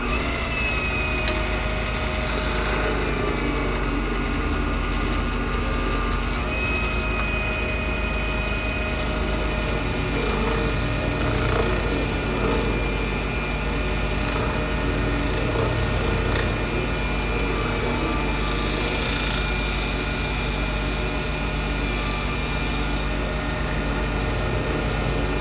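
Continuous loud grinding of a power sander working on a hand-poured acrylic duck call, steady throughout with no talking.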